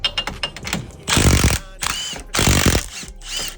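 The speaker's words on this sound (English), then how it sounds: "I'm gonna use my power ratchet." A power ratchet removes 18mm seat belt bolts on a Can-Am X3 RR side-by-side, first with a run of fast clicks and then with two loud whirring bursts of spinning, and a quieter whir at the end.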